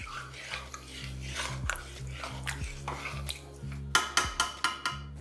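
Mutton slow-cooked with black cumin (kalo jeera) in a pan over a low flame, stirred steadily, with a low background hum and repeated metal scraping and clinking of a spoon against the pan that grow louder and sharper toward the end.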